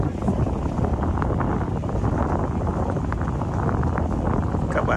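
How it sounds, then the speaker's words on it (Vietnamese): Steady, loud wind buffets the open deck of the Le Journey cruise boat in Ha Long Bay, a continuous roar with faint rushing water underneath. "Gió rất mát, không có quá mạnh."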